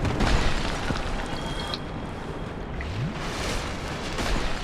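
Deep, rumbling booms from exploding enemies in the Dark Souls video game roll through a dense, noisy game soundtrack, loud and sustained across the whole stretch.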